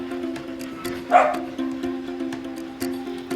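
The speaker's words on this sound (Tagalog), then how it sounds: "Tumatahol na, no?" An Aspin dog barks in short, sharp bursts, about six barks spread unevenly over a few seconds, fairly close and loud above a steady background hum.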